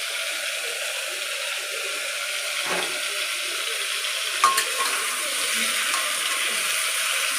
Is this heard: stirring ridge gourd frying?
yes